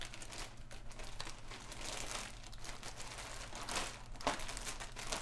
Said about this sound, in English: if I wrap that in wet paper towels, completely cover it in wet paper towels, and drop it in a plastic bag.